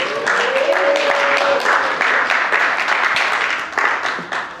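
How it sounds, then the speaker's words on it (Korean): A church congregation breaks into steady, dense applause with cheering, filling the room loudly and continuously for several seconds. "박수와 환호성."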